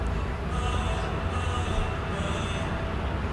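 A train passing near a minor league baseball ballpark in York, a steady rumbling wash with high squealing wheel tones coming in repeated stretches, loud and continuous throughout.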